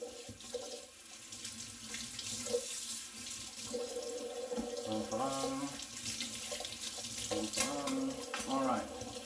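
A hand soap bottle is rinsed under a running kitchen tap, with water splashing steadily into the sink and shifting in tone as the bottle moves through the stream.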